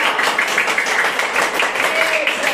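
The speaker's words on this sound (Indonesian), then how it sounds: "5 jari kanan, 5 jari kiri, digabung jadi satu menjadi tepuk tangan" Children in a fifth-grade classroom clapping their hands together, a brisk, steady patter of many small claps close by, continuous for the whole stretch.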